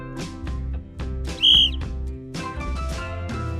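A short, shrill referee whistle blast rings out once over a steady background of music-like tones, with other sounds continuing around it.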